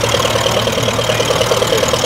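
A little grey Ferguson vintage tractor idles at a classic vehicle and tractor parade event, a loud, close, steady engine rumble with an even chugging pulse and no talk over it.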